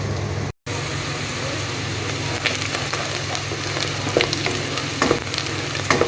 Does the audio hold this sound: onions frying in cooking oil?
yes